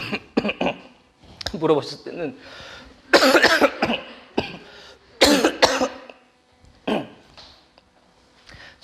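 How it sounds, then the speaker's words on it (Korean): Several sharp coughs burst out in quick succession from a church service audience, close and loud, between stretches of a man preaching. "지금 같은 시대에 기침이 이렇게 많이 하다니."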